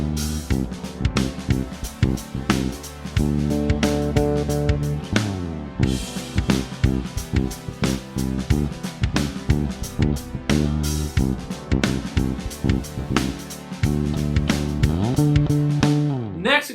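A bass guitar plays a simple fill that jumps an octave, with a steady groove of plucked low notes repeating over about seventeen seconds, played alone and close.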